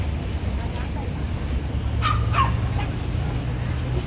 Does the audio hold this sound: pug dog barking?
yes